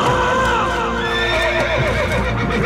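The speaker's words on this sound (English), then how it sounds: "I didn't mean to frighten your horse" A horse in the Dark Parables hidden-object game whinnies loudly and at length, with clip-clop hoof sounds underneath and a backing of game music, and no talking.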